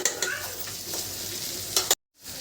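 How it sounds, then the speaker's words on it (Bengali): Chicken pieces sizzle in a hot pan with salt and a pinch of turmeric while being cooked for pasta; a dense, steady crackle runs with a few louder stirring scrapes, then cuts off abruptly into silence. "আমার চিকেনটা প্রায় ভাজা হয়ে গিয়েছে"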